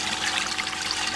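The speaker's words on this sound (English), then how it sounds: "Water's coming up, ready to exit out our new pipe." Water flows steadily out of a newly installed drainage pipe on an outdoor water infiltration project in Mosman, a continuous close rushing and trickling wash with no pauses or talk.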